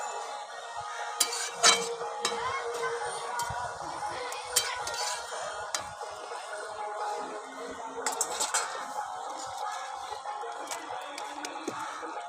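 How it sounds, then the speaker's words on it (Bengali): A metal spoon scraping and clinking in a pan as fried puti fish is stirred into cooked bottle gourd greens, with irregular knocks and scrapes at moderate distance; no talk. "এখন আমি মাছ ভাজাটা দিয়ে দেবো।"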